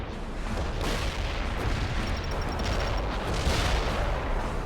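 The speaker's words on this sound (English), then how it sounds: "Launching missile now" Missile launch in the real-time strategy game World in Conflict, a steady roaring rush of rocket exhaust and battle noise lasting throughout at a constant loud level, with no distinct separate blasts.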